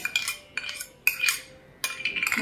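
Ghee is whisked in a bowl, with four separate bursts of quick metallic scraping and clinking against the bowl. Brief quiet pauses fall between the bursts, and nobody speaks.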